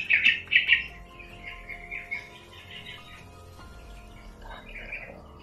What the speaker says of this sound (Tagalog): Maraming uwak mga tol.